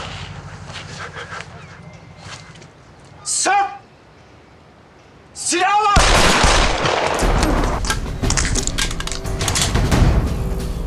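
Gunfire erupts in a tense drama scene, a burst of rapid shots starting midway and continuing loud and dense to the end, after quieter moments with brief voices and a couple of short sharp sounds.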